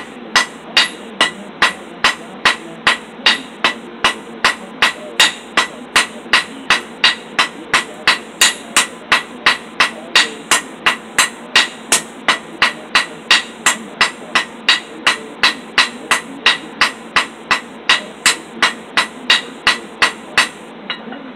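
A blacksmith hammers steel on an anvil to taper stock for forged leaves, producing loud, close, ringing strikes that repeat at a steady, even pace, roughly two per second, throughout.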